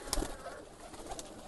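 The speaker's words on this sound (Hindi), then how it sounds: "ये चीना कबूतर बड़ा अच्छा है," Chini pigeons, a breed kept by fanciers in Faisalabad, give a brief, soft cooing call with no talk over it.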